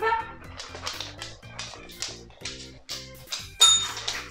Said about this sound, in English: Go on, ring the bell.